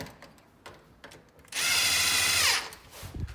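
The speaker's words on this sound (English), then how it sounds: "making sure you have a really long Phillips head bit on your drill" A power drill with a long Phillips bit whirs loudly for about a second while installing an exterior door knob, its pitch winding down at the end, between quieter handling clatter.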